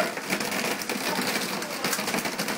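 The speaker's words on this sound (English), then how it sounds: "Oh, look at all that hail coming down." Hail falling outdoors, a dense steady patter and crackle of stones striking surfaces, continuous and fairly loud throughout with no talk.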